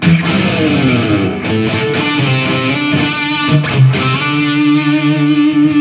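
Heavily distorted electric guitar plays a slow lead phrase from a guitar solo, with slides, sustained bent notes and vibrato, loud and continuous with no talking.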